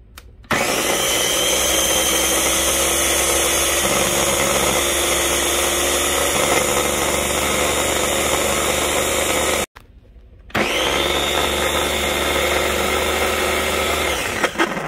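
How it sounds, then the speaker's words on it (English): Ninja food processor chopping cilantro for pineapple salsa, a loud steady whirring motor run for about nine seconds, a brief stop, then a second shorter burst, close up. "And now I'm going to do the cilantro in my ninja."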